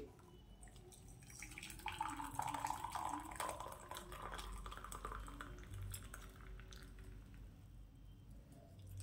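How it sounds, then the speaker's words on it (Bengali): Boiled beetroot strained through a kitchen sieve, with soft wet dripping, squishing and metal clinks of utensils against a pot, steady and close throughout. "এবার একটা ছাঁকনির সাহায্যে দেখো এই বিটরুটটা আমি ছেঁকে নিচ্ছি।"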